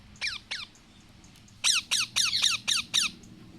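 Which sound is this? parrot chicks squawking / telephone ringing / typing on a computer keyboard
parrot chicks squawking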